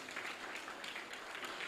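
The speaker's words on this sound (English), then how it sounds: "Please give them a round of applause." An audience at a primary school graduation ceremony claps for students, a brief burst of steady, moderately quiet applause from a hall full of people.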